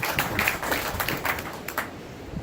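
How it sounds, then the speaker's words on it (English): An audience at a military retirement ceremony claps briefly, scattered hand claps that thin out and fade within a couple of seconds. "All of you, give yourself a round of applause."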